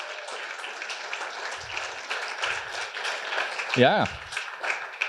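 Applause from an audience at a corporate conference session on a stage in Curaçao, a broad wash of clapping running under an announcer's speech, with a brief whistle-like tone near the end.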